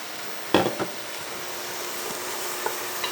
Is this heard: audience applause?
no